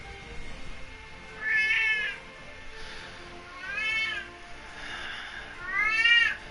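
A cat in the video game Sword Art Online: Hollow Realization meows three times, each call a rising, harmonic cry spaced a couple of seconds apart over a soft background game ambience.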